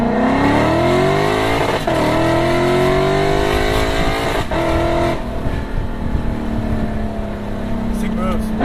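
A Lexus IS F sedan with exhaust valves open accelerates hard through rising gears, a loud, close engine roar climbing in pitch with brief shift breaks, then easing off; a person talks over it.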